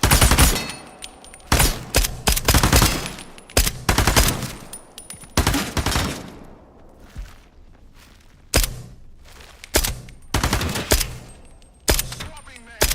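Gunfire in the VR game Into The Radius 2, a series of loud sharp shots and short bursts spread irregularly across the clip, with footsteps and thuds in the quieter gaps.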